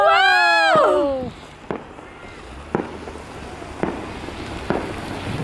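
Winter fireworks going off outdoors, a series of sharp distant pops spaced about a second apart after a burst of excited voices at the start.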